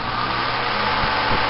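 A Hunter three-speed oscillating table fan running steadily, giving a loud, even broadband whoosh of moving air with a faint low motor hum and no talk.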